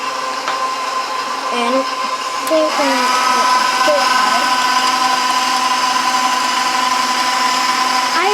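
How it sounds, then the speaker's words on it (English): An electric mixer whirs steadily and loudly, beating egg into cream cheese pound cake batter, its motor pitch shifting slightly as it works, with a brief spoken word over the drone. "We're going to start mixing the egg"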